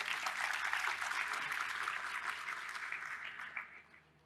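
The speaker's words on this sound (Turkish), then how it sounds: "Alkışlar kendisi için." A conference audience claps for a speaker at a satellite technology panel, a dense burst of applause that is strong at first, then thins and fades out over a few seconds.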